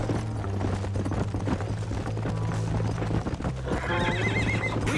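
Horse in the Red Dead Redemption game, steady clip-clop of hooves close by, ending with a loud whinny, with no talking.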